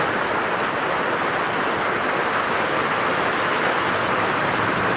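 Heavy rain falls in Sylhet during flooding, a loud, dense, steady roar of downpour that stays constant throughout with no breaks or voices.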